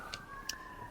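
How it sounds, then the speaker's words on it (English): A siren passes outside during an outdoor recording, a steady wailing tone held faintly in the background with a couple of brief clicks, no talk over it. "Another siren coming through."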